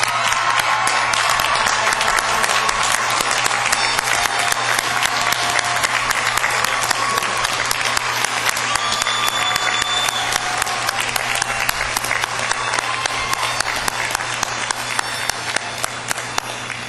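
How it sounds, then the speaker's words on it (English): A large crowd at a college commencement ceremony applauds the graduates, loud sustained clapping filling the hall without letup for the full stretch. "ask them to stand for a well-deserved round of applause"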